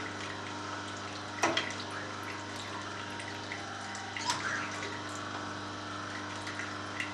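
An Omega 8004/8006 juicer runs quietly with a steady low motor hum and soft watery gurgling, plus a couple of faint clunks, and no one talks.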